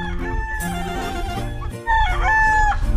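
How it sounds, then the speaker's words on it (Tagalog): Young stags and pullets, December-born national-banded gamefowl from a backyard breeder in Mindoro, crowing repeatedly in overlapping calls, fairly close and loud amid farmyard background. "ito nga pala yung kanyang mga baby stag at mga pulet"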